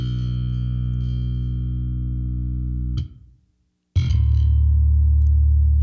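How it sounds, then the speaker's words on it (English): A sustained synthetic tone run through a compressor plugin with harmonic distortion turned fully up, holding loud and buzzy, cutting to near silence for about a second, then returning even louder and brighter. "I'm going to turn up the harmonic distortion right here."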